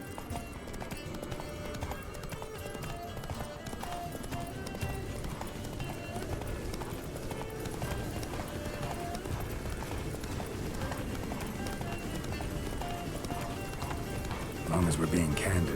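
Roach the horse galloping in The Witcher 3, steady rapid hoofbeats running continuously under voices talking, with a brief whinny near the end.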